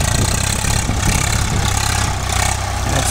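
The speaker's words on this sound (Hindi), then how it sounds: "देखो अभी आ रहा है हमारा दूसरा ट्रैक्टर" A Swaraj 855 FE 4WD tractor idles as it pulls in, its steady low diesel rumble running continuously and fairly loud, with no voices over it.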